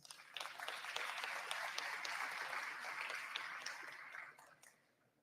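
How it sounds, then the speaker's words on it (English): An audience claps steadily for about four seconds during an election results announcement, a dense, even patter of many hands at moderate distance that then tapers off quickly. "everybody who did so really deserves a huge hand of applause."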